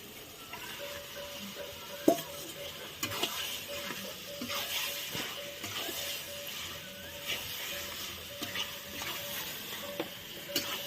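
Chicken curry sizzling and frying in a pan for nearly eleven seconds, with a steady crackle broken by sharper scrapes and knocks of a spoon stirring the pieces, close by and without speech.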